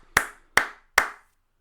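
Three sharp, evenly spaced hand claps ring out alone, close and clear, each with a short decaying tail, in a quiet room.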